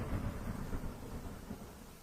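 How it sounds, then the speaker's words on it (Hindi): Steady rumbling thunder with rain during a storm, a continuous low roll that swells and eases over its length with no voices. "तभी रानू के घोंसले की आधी छत गिर जाती है और बारिश का पानी घोंसले में आने लगता है"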